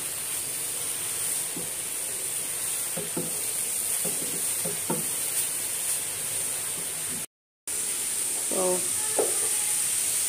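Food frying in a pan after about ten minutes of cooking makes a continuous hissing sizzle with a few scraping stir sounds and faint voices in the background. The sound cuts out completely for a moment partway through.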